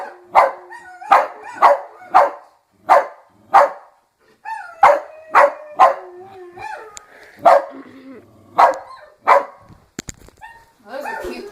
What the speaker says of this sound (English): Those are cute barks.